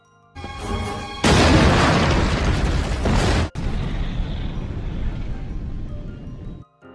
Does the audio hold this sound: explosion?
yes